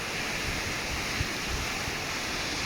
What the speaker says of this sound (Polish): tutaj jest taki hałas właśnie od zapory